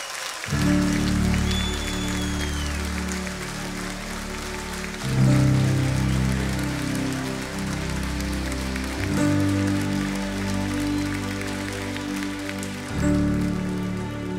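A concert audience at an open-air show in the Rosedal applauds a performer during a tribute to beat music, a long, dense, rain-like roar of clapping that swells and settles over steady low musical tones.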